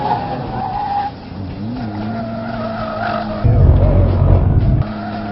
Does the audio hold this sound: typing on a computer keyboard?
no